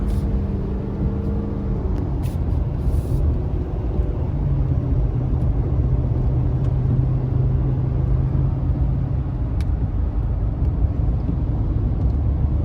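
A 2019 Ford F-450 Limited pickup towing a 30,000 lb load rolls along in regular drive mode, giving a steady, loud low rumble of engine and road noise with a faint droning tone throughout and no talk.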